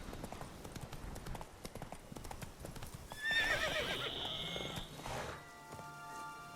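Roach, the horse in The Witcher 3, trots with a quick run of hoof clip-clops, then gives a loud whinny partway through. The horse sounds close and no one speaks.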